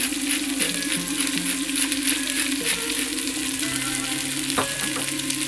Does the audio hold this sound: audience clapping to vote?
no